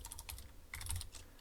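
Quick bursts of typing on a computer keyboard while writing a Unity script, light irregular key clicks close to the microphone over a soft low hum, with no voices.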